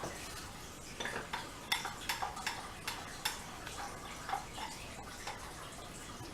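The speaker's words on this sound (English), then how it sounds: "And we're going to give this a stir." A warm orzo pasta salad with lemon olive oil vinaigrette is stirred in a bowl. Close, irregular soft clinks and scrapes of a utensil against the bowl mix with a wet, squelchy sound.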